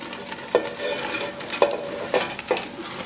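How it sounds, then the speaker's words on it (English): Onions, carrots and celery frying in a pan, a soft steady sizzle punctuated by four distinct stirring scrapes and clinks at a slow, uneven rhythm. "And we're going to stir this, let it cook for a few minutes."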